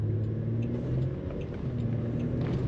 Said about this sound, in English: Plenty of power coming from that engine.